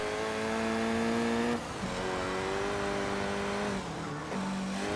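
Engine revving and accelerating in Forza Horizon 3, a steady droning car engine with rising pitch that drops briefly at a gear change or lift-off, then climbs again, loud and close.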